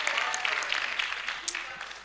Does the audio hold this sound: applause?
yes